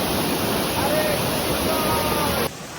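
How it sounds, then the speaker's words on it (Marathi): Loud, dense rushing of fast-flowing water fills the whole clip, a constant roar up close that drops off abruptly near the end. "एवढा पाण्याचा प्रवाह चालू आहे."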